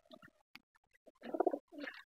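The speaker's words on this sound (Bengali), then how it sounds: "এই যে ঘুরতেছে ঘুরতেছে এবং ডাকতেছে, এটা নর কবুতর" A male local round pigeon circles and coos, giving soft short rolling calls in two louder bursts after a few faint sounds, close and alone.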